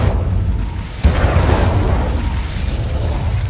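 An Incendio fire spell goes off in a magic game with a sudden, loud explosion-like boom and a rumbling burst, followed by sustained fiery roar.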